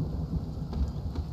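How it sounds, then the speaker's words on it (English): Thunder and rain during a lightning storm in the video game Spiritfarer: a low, steady rumble with rain-like hiss and a few soft crackles, faint and continuous. "Oh, it's lightning."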